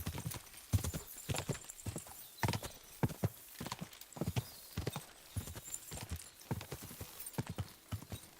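Horse hooves clip-clop in a steady, uneven walking rhythm, fairly close and clear, with no talking over them, in the video game Kingdom Come Deliverance 2.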